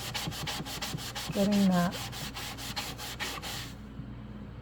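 Damp sponge rubbed back and forth over a surface in quick regular strokes, a scratchy rhythmic swishing heard close up, with a brief spoken remark partway through.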